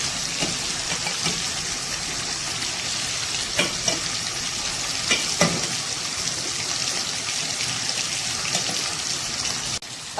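Beef stew with red chillies fries in a pot, a continuous loud sizzle with occasional scraping and clinks as the ingredients are stirred over about ten seconds, close and steady.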